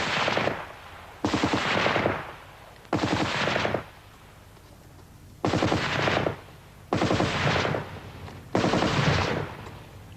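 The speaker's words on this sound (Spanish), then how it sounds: "La Vickers, una ametralladora medium, sólidamente montada en un trípode y alimentada por una cinta de munición" A tripod-mounted, belt-fed Vickers medium machine gun fires six sustained bursts of rapid automatic fire, each lasting about a second, with brief silent gaps between them.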